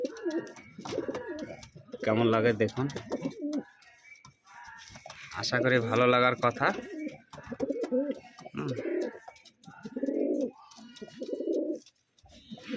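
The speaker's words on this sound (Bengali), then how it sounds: "নর পায়রাটা দেখুন কেমন লাগছে" Andhra pigeons coo in low, throaty bursts close by, while someone talks on and off between them.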